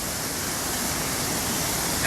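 Etiwanda Falls waterfall running hard with snowmelt, a steady loud broadband roar of rushing water that fills the whole clip without letup.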